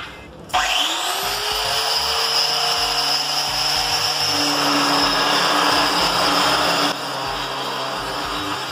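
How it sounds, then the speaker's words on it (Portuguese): Power grinder with a 60-grit wheel shaping a porcelain tile edge at a 45-degree angle, a loud steady whine starting abruptly after a half second and holding for the rest of the clip, slightly easing near the end. "Agora eu vou usar aqui o rebolo 60 e depois para dar o acabamento fino eu passo o 120"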